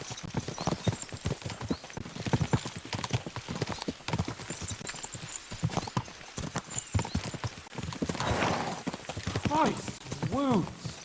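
Horses' hooves clip-clop at a quick trot in Kingdom Come: Deliverance 2, a busy rhythmic clatter running under spoken dialogue, with a horse's whinny near the end.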